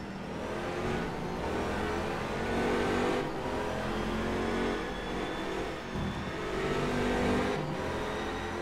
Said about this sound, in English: We'll get on board with Christian to sample the cockpit ambience of the Corvette